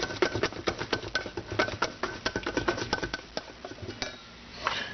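A spoon scrapes and clinks steadily around a bowl while mayonnaise is stirred, giving a close, busy run of rapid small taps and scrapes with no talking.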